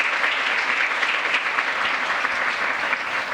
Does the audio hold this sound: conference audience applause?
yes